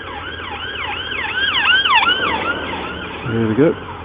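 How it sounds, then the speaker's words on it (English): A wailing siren sweeps up and down repeatedly, loud and nearby, with traffic rumble beneath and a short lower horn-like blare near the end. "Look, there's a siren somewhere."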